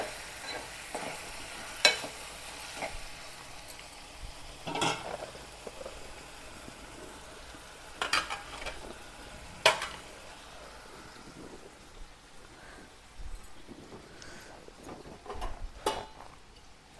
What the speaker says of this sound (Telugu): దీన్ని మంచిగా ఫ్రై చేసుకోవాలి చికెన్ను